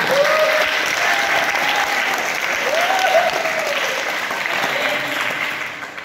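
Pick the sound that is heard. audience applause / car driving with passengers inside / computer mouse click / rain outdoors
audience applause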